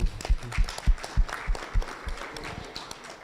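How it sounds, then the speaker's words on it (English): Scattered clapping from a business meeting audience, a handful of uneven, moderately close claps with pauses between them rather than a full ovation. "round of applause"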